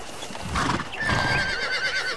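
A horse pulling a wagon in the Red Dead Redemption video game whinnies loudly over the close, steady clopping of its hooves, with no talk.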